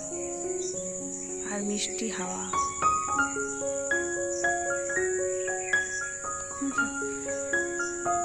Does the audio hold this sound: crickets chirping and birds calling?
yes